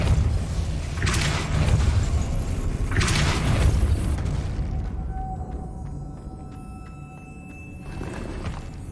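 In the Hogwarts Legacy video game, the Depulso spell is cast repeatedly, each cast a loud, booming whoosh with rumbling impacts, separated by a few seconds of quieter game ambience.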